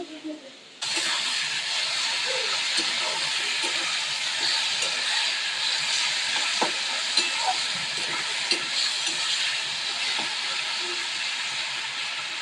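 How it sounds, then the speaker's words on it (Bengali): Potatoes and onions frying in a pan on a gas stove, a steady loud sizzle and hiss that starts abruptly and holds for the whole stretch, with faint clinks underneath. "আলু আর পেঁয়াজ ভাজছি"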